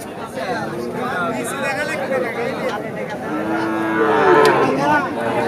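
A one-year-old Friesian bull calf lows loudly at a busy cattle market, its long drawn-out moo rising near the end over steady crowd chatter and nearby voices.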